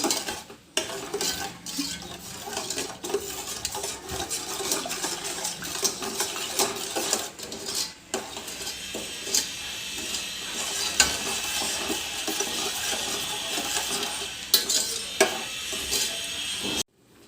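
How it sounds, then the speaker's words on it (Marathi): A spoon scrapes and clinks steadily around a pan of lukewarm milk and sugar, continuous stirring with occasional metallic taps and a faint simmer beneath. "सतत हलवत राहायचं म्हणजे ह्याच्या गुठळ्या नाही होणार"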